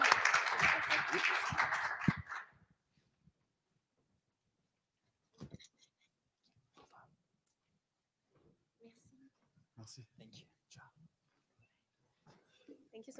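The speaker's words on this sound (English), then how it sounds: "A round of applause" A short burst of conference audience applause at the start, dense and fairly close, cutting off after about two seconds, followed by quiet room noise with scattered soft voices and faint shuffling.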